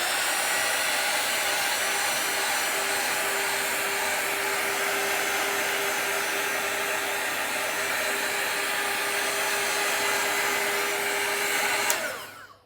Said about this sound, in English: we'll go in last time a little bit with the heat gun